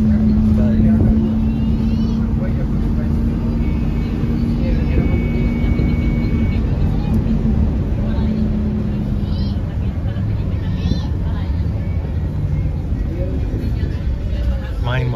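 A public bus in Costa Rica rolls along with a steady, loud engine rumble and road noise throughout, and people talk over the continuous drone.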